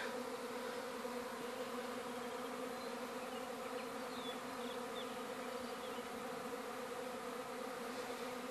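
A dense, steady drone of many honeybees buzzing close by around a swarm box, continuous and unbroken throughout, with no voices.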